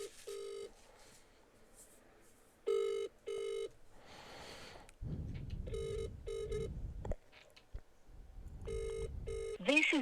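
A telephone rings with an incoming call, repeated ring bursts with pauses between them, mixed with line tones and background noise and some speech.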